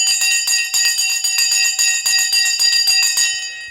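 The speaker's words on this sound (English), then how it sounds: "The bell has gone." A bell rung for a market open clangs loudly and continuously in rapid repeated strikes for several seconds, with bright ringing overtones, then begins to fade.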